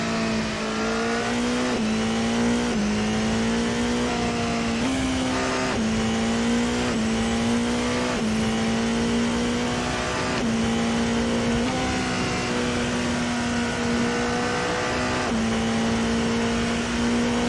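Race car engine in a virtual racing video game, a steady loud drone holding near one pitch with brief dips and surges as the car shifts and boosts, continuous throughout with no talking.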